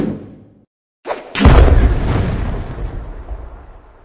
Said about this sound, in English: Looks like Gummo done blowed himself up.